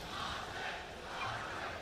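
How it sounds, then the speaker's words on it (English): A live esports crowd at The International 2025 Dota 2 event roars and cheers in a steady, distant wash of massed voices, moderately faint and without talk above it. "we hear the crowd already loving it"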